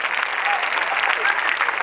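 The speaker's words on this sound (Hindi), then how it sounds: "शाबाश, तालियां बजा दीजिए इनके लिए।" An audience at a Bhagavat katha religious discourse claps steadily for a moment, a brief, even burst of hand clapping heard at moderate distance.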